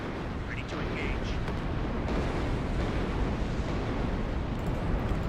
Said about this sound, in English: That's a lot of artillery.